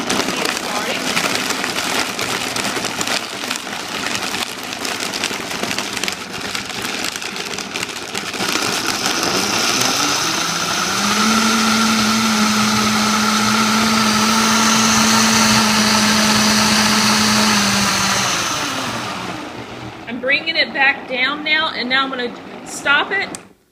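A Vitamix 300 blender whirs through a peanut butter, banana and jelly smoothie, its motor ramping up to a loud steady high-pitched roar for about fifteen seconds before winding down, followed by talking.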